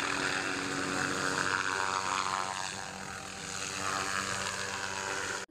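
A toy fire rescue helicopter whirs with a steady, fairly loud propeller-like drone that holds evenly for about five seconds, then cuts off abruptly at the end, with no talking over it.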